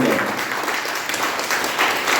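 An audience at an award celebration claps together in a steady, moderately loud burst of applause that fills the short stretch without pause.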